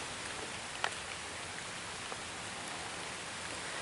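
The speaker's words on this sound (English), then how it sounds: "I am under another rain cell" Steady rain falls during a bike ride along the Allegheny River Trail near the Kennerdell Tunnel, a constant even hiss with a couple of brief louder drops, fairly soft and with no voices.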